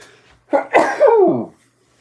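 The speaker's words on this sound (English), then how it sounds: "I've got a sneeze coming on." A single loud, close sneeze: a sharp intake of breath followed by an explosive burst, then silence.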